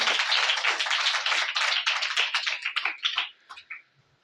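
Loud congregational applause at a church sermon, dense and sustained for about three seconds, then breaking into scattered individual claps that fade out.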